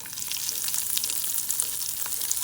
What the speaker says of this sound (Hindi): अभी मिर्चों को थोड़ा सा फ्राई करेंगे।